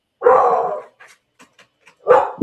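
A dog barks nearby, giving two loud, drawn-out barks separated by a pause. A few faint yips or small sounds fall in the gap between them.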